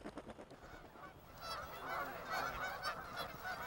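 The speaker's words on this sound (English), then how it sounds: "the geese that show up in the fall" A flock of geese honks repeatedly in California's Central Valley in the fall, a soft, distant chorus of overlapping calls that swells midway and carries on steadily with no talking.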